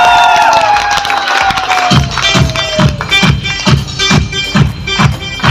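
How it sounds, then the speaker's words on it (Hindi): Audience in a large hall at a seminar in Balaghat breaks into loud clapping and cheering, with a rhythmic rising beat of claps building over the crowd noise. "तो मैं चाहूंगा इस बालाघाट की धरती के लिए एक बार जबरदस्त ताली बजा दीजिए।"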